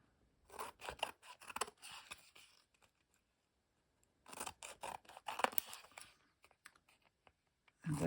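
Scissors snip through damp paper, trimming the edges clean, in two bursts of quick, close crisp cuts separated by a pause of silence.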